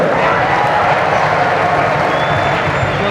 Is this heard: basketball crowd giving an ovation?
yes